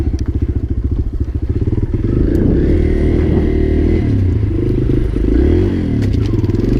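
Dirt bike engine running on snow, rough chain-worn machine throttling near and loud, first a steady idle rumble, then revving and revving up steadily with clattering mechanical noise throughout, no talk.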